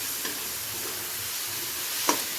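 Ground cumin paste fries with tomato in a pan, giving a soft steady sizzle with a couple of brief clicks from stirring, fairly quiet and with no voices.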